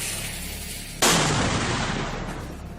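A sudden sharp explosion blast used as a sound effect in a horror story, dynamite going off with an abrupt loud boom that then rumbles and slowly fades over the following seconds.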